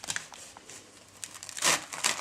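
A knife cuts a fresh artichoke in half with crisp crunching and crackling, faint at first, then a louder burst as the blade pushes through.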